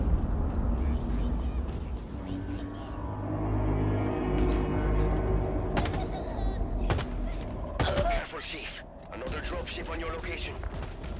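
A Covenant dropship roars overhead in Halo Infinite, a loud sustained engine whoosh swelling and fading, with gunfire cracks and sharp impacts breaking through near the end.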